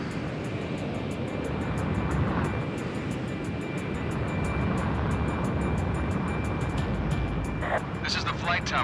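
A jet aircraft in the Ace Combat Infinity video game during takeoff, a steady roaring engine rumble that holds constant, with a radio voice speaking over it.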